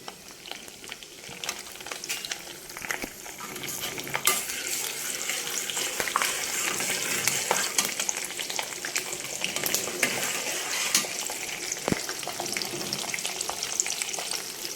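Green chillies and tempering spices sizzle steadily in hot oil for a Telugu tamarind rice dish, a continuous close frying crackle with occasional sharper pops and no talk.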